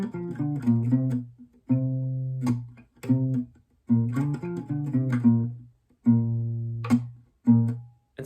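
Looped acoustic guitar carrying the first four sections of a song, rhythmic strummed chords and ringing bass notes in repeating phrases broken by brief pauses, close and steady, purely instrumental.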